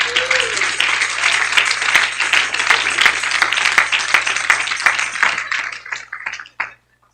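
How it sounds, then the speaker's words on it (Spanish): A church congregation breaks into dense, sustained applause during a sermon on spiritual warfare, the clapping loud and continuous before thinning to a few scattered claps and fading out, with faint voices mixed in. "Denle un aplauso al Señor"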